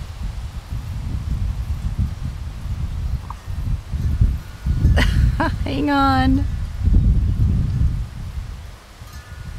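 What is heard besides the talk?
wind rustling garden leaves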